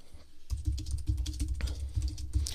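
Quick, crisp clicks of a clicky keyboard connected to an iPad, typed in an uneven rapid rhythm, close and fairly quiet, with no one talking.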